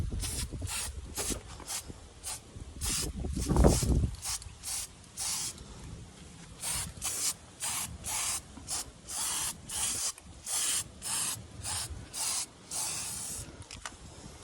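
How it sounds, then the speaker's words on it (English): Aerosol paint sprayed onto a cleaned brake caliper of a 2021 Ford Explorer ST, heard as about a dozen short, crisp hissing bursts in a steady rhythm, close and fairly loud, with handling noise near the start. "So now we can start spraying."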